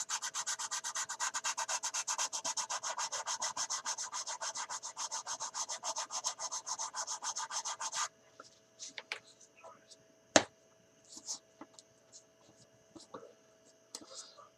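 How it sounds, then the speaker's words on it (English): Plastic parts of an Airfix 1/72 Short Sunderland model kit rubbed with wet/dry sandpaper, a close, steady rasping back-and-forth scrub for about eight seconds, then scattered soft handling clicks and taps. "Sand well using wet dry sandpaper, and go ahead and prepare for painting"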